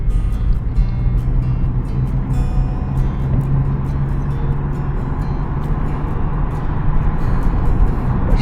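A 2006 Chevy Impala with a new muffler drives along steadily, its low engine and exhaust drone constant and fairly loud, mixed with road and tyre rumble.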